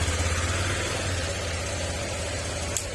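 A motorcycle engine runs at idle after starting, a steady low rumble with constant vibration close by, holding an even level throughout with a brief click near the end.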